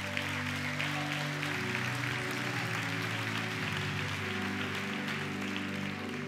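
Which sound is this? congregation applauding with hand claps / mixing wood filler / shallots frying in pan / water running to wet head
congregation applauding with hand claps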